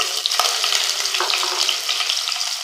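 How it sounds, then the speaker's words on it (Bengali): Onion and green chilies sizzle and fry in hot mustard oil, a steady, close crackling hiss with faint stirring throughout, no voices. "পেঁয়াজ আর মরিচ ভালো করে ভেজে নেওয়া হয়ে গেছে"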